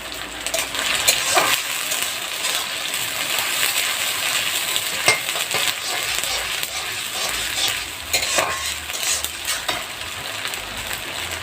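Bowl-rinsing water splashed onto frying spices for duck curry cooking on a clay stove, a loud, steady close sizzle and hiss with stirring scrapes and occasional clinks, no talking.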